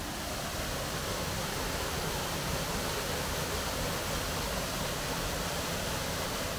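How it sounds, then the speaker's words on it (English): A small waterfall gives a constant, dense rushing hiss of falling water, close and steady for the whole stretch with no break. "Just a little waterfall."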